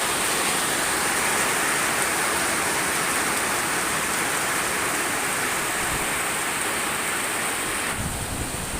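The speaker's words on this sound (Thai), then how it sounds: "วันนี้ฝนตก" Heavy rain pours down in a dense, steady roar that stays constant throughout, with no voices.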